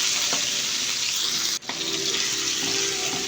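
Pork giniling, ground pork mince, sizzling and frying in a pan, with a steady loud crackle, a brief stir or clatter midway, and faint water sounds behind.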